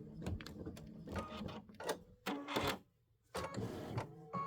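An Aveneer embroidery machine stitches a Boo Manor tiling scene in rapid mechanical bursts, stopping and restarting several times with short quiet gaps between runs, close and fairly loud.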